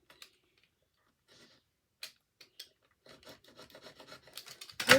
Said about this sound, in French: de la croix à la croix, je trace un trait.